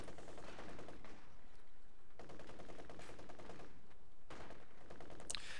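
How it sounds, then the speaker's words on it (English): Rapid automatic gunfire in a Company of Heroes match, dense rattling bursts in three long volleys separated by brief pauses, loud and continuous with no talking. "with the 120mm mortar."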